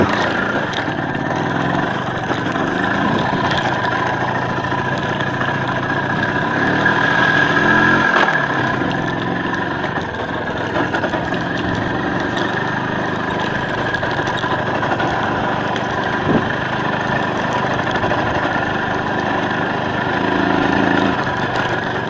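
An Izh Planeta 5 motorcycle rumbling steadily over bumpy rural ground, its engine drone loud and continuous with occasional jolts and knocks from the rough terrain.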